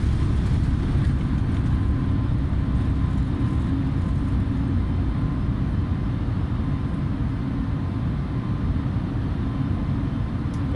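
Steady jet engine roar and rumbling wheels as an A320 airliner makes its takeoff roll in Microsoft Flight Simulator, a loud, continuous, broadband drone that stays constant and close throughout.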